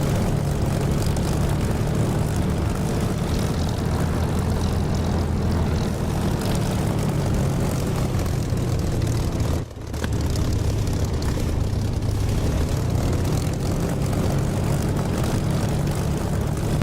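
A steady, loud propeller aircraft engine drones continuously with a brief dip near the middle, no talking, in the flight simulator DCS.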